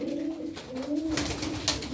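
A crested, mottled pigeon gives two low, throaty coos in quick succession, moderately close against faint background noise.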